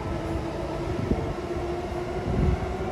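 A JR 185 series Odoriko express train rumbles past with a steady low roar and a sustained tonal whine, swelling slightly toward the end.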